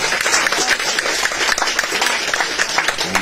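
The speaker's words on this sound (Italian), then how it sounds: "un grande applauso a" Studio audience applause follows a call for a round of applause for a guest on an Italian talk show, a dense, steady wash of clapping lasting several seconds with no voices over it.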